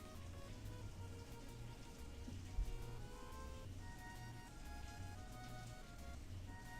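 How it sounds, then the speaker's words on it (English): Steady rain falls outside, a continuous soft hiss with no clear individual drops, running alone at a low level beneath faint game music. "It's raining again."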